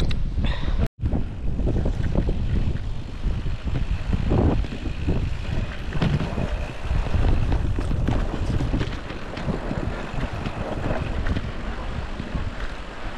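Loud, continuous roaring rush of strong wind buffeting the microphone, with a brief dropout near the start.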